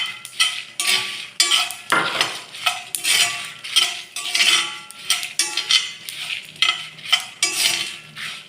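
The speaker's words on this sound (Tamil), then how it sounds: "தீயை நல்லா ஸ்லோவாக வச்சு பொறுமையாக நல்லா வருங்க. நல்லா பொரிஞ்சிடுச்சு." About twenty dried red chillies fry in a pan over low heat, a metal spoon stirring and scraping in steady repeated strokes over a faint sizzle.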